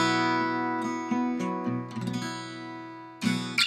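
Chord strummed on guitar, several strings struck in a quick series of plucks and re-strikes that ring together, ending in a brighter strum, close and moderately loud with no speech.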